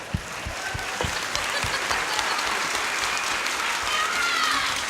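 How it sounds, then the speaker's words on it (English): An audience at a 2014 school district convocation gives a round of applause, a broad steady wash of clapping that builds after a few early thumps and holds through the end. "Round of applause for our sponsors"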